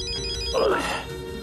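A phone ringtone plays a short electronic melody close by, clear and steady, with no one talking.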